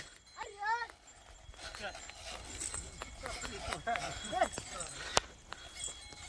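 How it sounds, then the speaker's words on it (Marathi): A team of bullocks pulls a harrow through an open farm field, with soft hoof thuds and clattering of the implement under steady talk from a man nearby. "अशा रीतीनं आता पुढनं पाठीमागं ओळीन येणार आहेत बैल"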